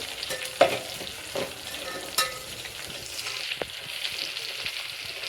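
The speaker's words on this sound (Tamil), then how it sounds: "இதையும் எண்ணெயில் போட்டு நல்லா ஃப்ரை பண்ணிக்கோங்க." Three green chillies fry in hot oil for a mushroom dum biryani, a steady close sizzle with a few sharper stirring clinks against the pan.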